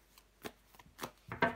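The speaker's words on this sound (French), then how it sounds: "je vais recouvrir le valet de coupe." Tarot cards handled and laid down on a table, a few quick papery slaps and slides close by, ending with a firmer flick as one card is placed over another; no speech.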